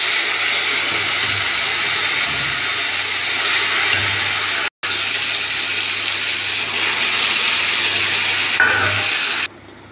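Mung dal sizzles in hot oil seasoned with whole cumin and dried red chilli, in a dal cooked with ash gourd: a steady, loud frying hiss lasting throughout, with a brief break midway and a sudden drop at the very end.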